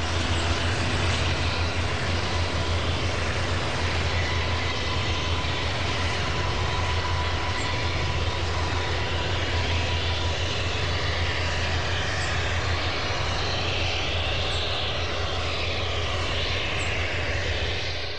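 A modern helicopter taxiing gives off a loud, steady engine roar with a deep low rumble, unchanging for the whole stretch with no voices.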